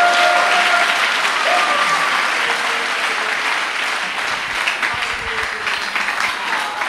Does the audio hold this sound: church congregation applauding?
yes